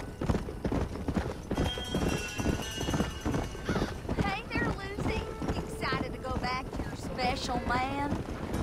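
A horse in the Western video game Red Dead Redemption clip-clops along at a steady walking rhythm, joined by neighs and whinnies, while people talk over the hoofbeats.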